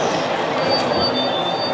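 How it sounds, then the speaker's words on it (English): Passenger train at a train show, a steady rumble of rolling rail cars with thin high wheel squeal tones running throughout, with no speech. "this one's actually a passenger train"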